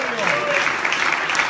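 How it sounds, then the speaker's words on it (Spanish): A church congregation claps together in praise, a brief dense wash of applause with a voice speaking faintly over it. "Dale fuerte ese aplauso al Señor."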